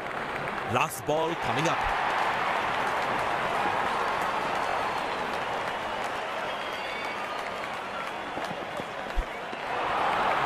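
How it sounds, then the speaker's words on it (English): Steady applause from a large cricket stadium crowd fills the whole stretch, with a commentator's voice briefly heard over it near the start. "Goes to a splendid 50, good innings, and gets a grand applause."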